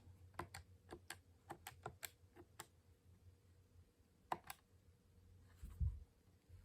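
Keys are tapped on a handheld electronic spelling device, a sparse run of small, faint plastic clicks in an uneven rhythm that pause midway and then resume with a few more presses, with no voices.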